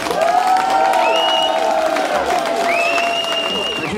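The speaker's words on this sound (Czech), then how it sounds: "Potlesk" Audience applause at an award ceremony during a local Czech festival celebration, dense steady clapping with cheering and whoops over a sustained musical tone, loud and continuous throughout.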